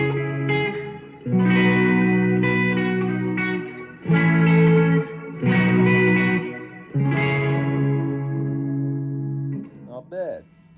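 Electric guitar chords ring out through a Catalinbread Sinkhole ethereal reverb pedal, each held chord swelling into a long washed-out reverb tail, several strums in sequence with a short pitch-bending flourish at the end.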